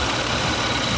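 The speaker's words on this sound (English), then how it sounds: "The thing's running smooth, idling at only a couple hundred RPM, no problem." A Toyota Camry wagon's JDM engine idles smoothly at low RPM, a steady, dense, close rumble with no variation over the brief moment.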